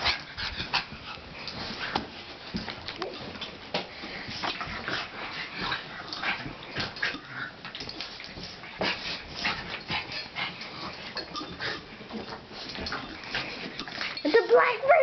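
A small black dog and a small white dog scuffle and play-fight at close range, with rapid yips, whimpers and growly squeals coming in busy bursts while someone talks over the noise.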